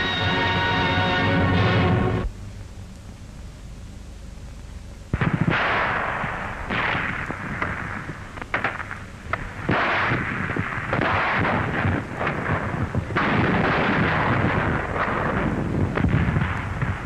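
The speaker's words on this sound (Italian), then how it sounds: "All'attacco con lanciafiamme e bombe a mano." Wartime combat with hand grenades and a flamethrower attack: a sustained low roar, then sharp heavy blasts and crackling bursts of fire repeating loudly and close.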